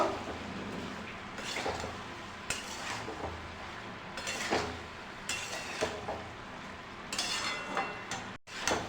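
A spoon stirring spiced food in a pot seasoned with turmeric and salt, repeated metallic scrapes and clinks against the pot in an uneven rhythm over a faint sizzle, close and with no speech.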